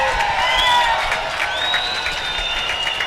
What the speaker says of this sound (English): This last 25, I want us cheering so loud the bleachers are shaking